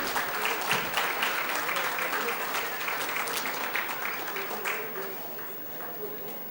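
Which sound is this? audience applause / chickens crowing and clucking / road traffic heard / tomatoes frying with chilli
audience applause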